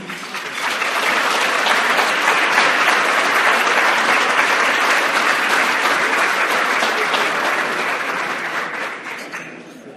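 Sustained applause from an audience of about two hundred at a gala dinner welcoming a speaker, a dense, steady roar of many hands that swells in quickly, holds loud for several seconds and fades near the end.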